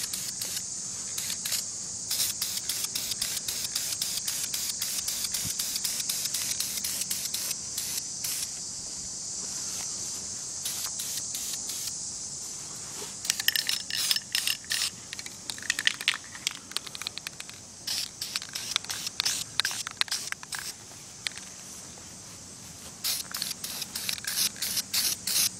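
An airsoft gun being spray painted: bursts of aerosol hiss from the can, some long and steady, others short and repeated in quick pulses, fairly close with no talking.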